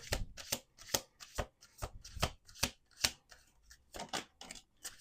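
Oracle cards riffled and bridged repeatedly in quick bursts, a dozen or so crisp flutters close by, with short gaps between them and no talking.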